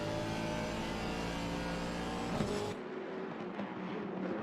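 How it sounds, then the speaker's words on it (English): A GT3 race car in a sim racing game at Barcelona accelerates with a loud, sustained engine roar, which drops in pitch and tone partway through as it shifts or changes perspective, with no talking. "you've got to just jam your foot on the loud pedal and hope the car grips up."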